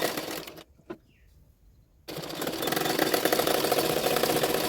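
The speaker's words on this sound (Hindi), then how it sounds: "तो ये इस साइड पे शोल्डर भी सिलाई कर लूँगी" A sewing machine runs steadily while stitching the shoulder seam of a size 34 double katori blouse; a short quiet pause with a click comes first, then a loud, continuous mechanical whir.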